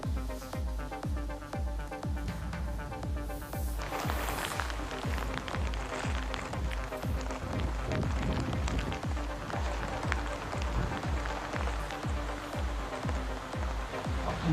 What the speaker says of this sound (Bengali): ঘূর্ণিঝড় রিমালের প্রভাবে একটানা বৃষ্টি ঝরছে, বইছে দমকা বাতাস